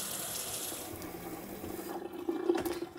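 Water from an outdoor kitchen sink drain in northern Italy runs straight onto the lawn, a steady pouring flow that swells and splashes louder toward the end, with no voices.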